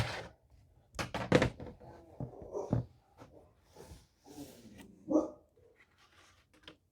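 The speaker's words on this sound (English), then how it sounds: "getting the dog barking" A dog barks indoors in several sharp, close bursts spread through the stretch, with quieter snorts and whimpers between them.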